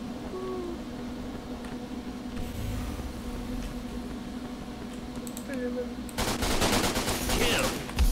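Pistol and gunfire shots in the first-person shooter Line of Sight, a burst of rapid close shots late in the clip over game noise while a voice talks.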